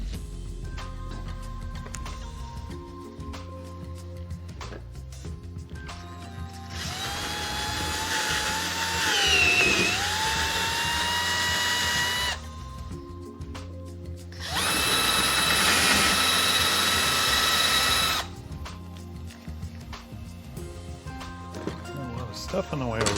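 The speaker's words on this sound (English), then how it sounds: "we'll go ahead and use the drill to drill these holes out to 5/16" A power drill boring 5/16-inch holes in a giant-scale scratch-built model airplane: two loud bursts of whining drilling, the first with the motor pitch bending under load, separated and followed by quieter workshop handling noises.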